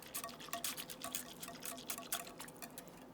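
A whisk beats a pumpkin latte, made with coconut cream, into a froth, giving quick, faint, rapid rhythmic clicking and swishing throughout.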